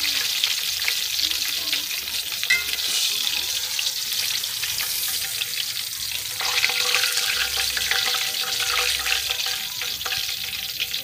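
Fish frying in hot oil, a steady loud sizzle and bubbling that runs continuously throughout, with faint stirring and a brief muffled voice in the background.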